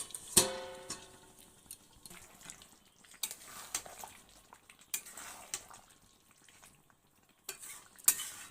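Chicken cooking in a pan being stirred with salt while it fries, giving soft scraping stir strokes, light sizzle and a few sharp clinks, close and moderately quiet with no talk.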